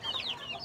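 Heritage chickens on a farm cluck with short, chattering high calls that overlap steadily at close range, with no talk.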